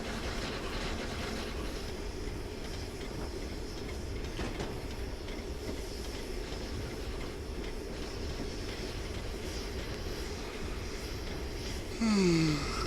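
A train rolls steadily past in Train Simulator on the Whitby and Pickering heritage line, a continuous rumbling wheel roar with faint clatter throughout, ending in a short rising squeal.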